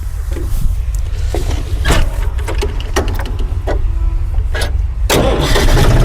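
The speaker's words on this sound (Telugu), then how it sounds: "దారం ఎక్కించుకొని మనం బండి స్టార్ట్ చేసుకోవాలన్నమాట" A tractor engine cranks and starts close by, ahead of running a hay baler, then settles into a loud, steady rumble with some mechanical knocks.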